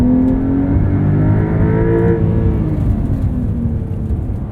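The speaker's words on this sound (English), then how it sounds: "It retains some of that classic Porsche wail at the lower registers, lower revs" A 2023 Porsche 911 Carrera T with manual gearbox and flat-six engine pulls along a road, a loud, steady throaty drone heard from inside the cabin with rising and falling revs and no talk.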